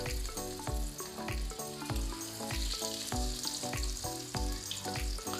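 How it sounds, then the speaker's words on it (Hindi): Coated, pre-tenderized mutton chops fry in hot oil, a loud, steady sizzle filling the space, punctuated by regular thumps and taps from the pan. "अब हम इसमें एक करके चॉप्स डाल देंगे जिसको हमने कोट करा था"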